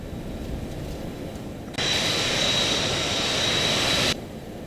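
Jet engines of a Boeing 737-200 in the X-Plane 12 simulator roar on takeoff over a steady engine rumble, surging louder with a thin high whine for a couple of seconds before dropping back.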